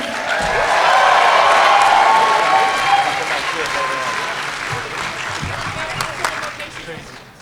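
A convention crowd at a Mighty Morphin Power Rangers anniversary panel claps and cheers for Karan Ashley, a thick wash of applause that swells early, then gradually thins and tapers toward the end.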